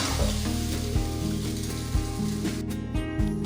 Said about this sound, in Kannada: ಈ ಥರ ಹೈ ಫ್ಲೇಮ್ ಇಟ್ಕೊಂಡು ತಿರುಗಿಸ್ಕೊತಾ ಇದ್ದರೆ ಚೆನ್ನಾಗಿ ಫ್ರೈ ಆಗ್ತಾ ಇರುತ್ತೆ